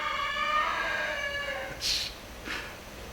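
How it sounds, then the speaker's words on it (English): A backyard chicken kept by a prepper clucks and crows in the background, a drawn-out call followed by two short sharp squawks, moderately loud and with no talk over it. "What is wrong with that chicken?"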